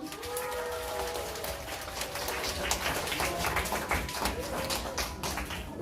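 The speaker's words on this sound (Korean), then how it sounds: "나오실 때 박수!" Children at an elementary Sunday school worship service clapping steadily and fairly loudly as a teacher comes forward, a dense patter of many hands throughout with faint voices underneath.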